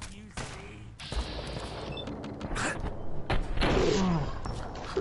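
Fallout 4 gunfire: several loud shots and rapid bursts ring out over a noisy combat background, with clanks and mechanical sounds between them and a person talking.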